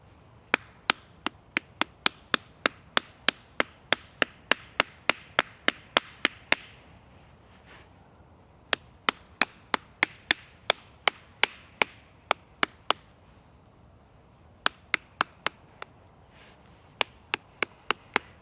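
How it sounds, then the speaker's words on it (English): Tinder fungus being hammered to loosen its fibres: a run of sharp, close, evenly spaced dry knocks in quick bursts, with brief pauses between the bursts and no talk. "We're just going to hammer this out and loosen those fibres up a bit."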